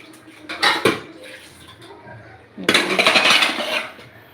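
A metal cooking pot just used to make biryani is handled and set down, giving two bursts of clattering, scraping metal, a short one early and a longer, louder stretch near the end, with no talking.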